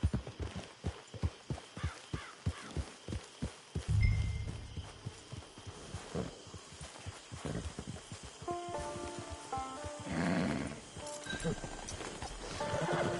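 A horse in a video game trots with steady, close clip-clop hoofbeats, then snorts and whinnies, with soft rustling and game sounds in the background.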